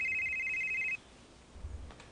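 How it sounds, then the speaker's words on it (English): A cell phone rings with a steady repeating electronic tone that cuts off suddenly about a second in, followed by quiet room tone and a faint low thump. "Is that your phone? Yes, that was my cell phone."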